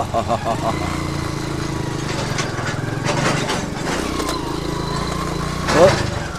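A roadside earthmoving machine cuts soil on the NH66 highway works in Malappuram: a continuous engine rumble with scattered crackling and scraping bursts and a short whine toward the end.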